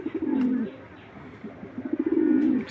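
Young racing pigeons cooing at a bird seller's, two bursts of low, throaty rolling coos, close and clear, with a short pause between them.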